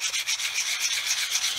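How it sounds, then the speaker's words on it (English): A sanding stick rubs steadily and lightly across a buff workpiece, a close, continuous gritty scraping with regular back-and-forth strokes and no voices. "Once again, going with the sanding stick"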